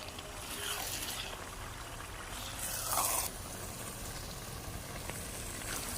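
Semolina roasting in ghee in a pan for Bannu-style milk halwa, a soft steady sizzle with light scraping, fairly quiet and close, with a brief louder burst of stirring midway.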